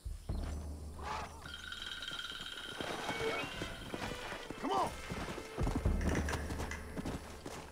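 Horse hooves clip-clop steadily in the Red Dead Redemption video game, close and continuous, mixed with game ambience and brief crashes, while someone talks over them now and then.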